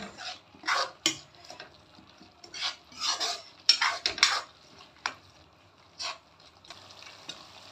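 A spoon stirs goat head and mutton curry in a metal pot, giving repeated close scraping and clanking strokes in an irregular rhythm with brief pauses between them.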